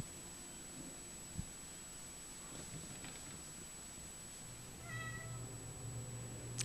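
An indoor shelter cat gives a faint meow toward the end, heard over a quiet, hissy room background with a soft low hum and a couple of small knocks.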